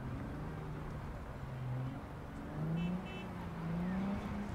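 A car drives in the video game Cyberpunk, its engine a steady low drone that rises and falls in pitch as it revs, heard alone without talk.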